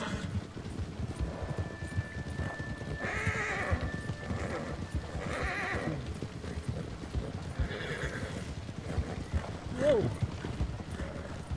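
A horse's hooves clop steadily in Red Dead Redemption 2, close and continuous, with a sharp neigh near the end, under quiet game ambience.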